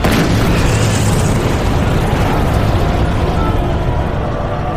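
A magma eruption explosion from an audio drama roars with a loud, sustained rumbling boom from a sharp start and carries on at near-constant power for almost five seconds, with no voices over it.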